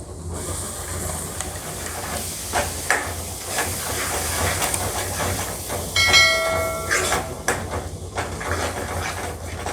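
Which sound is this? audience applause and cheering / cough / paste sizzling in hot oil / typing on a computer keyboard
paste sizzling in hot oil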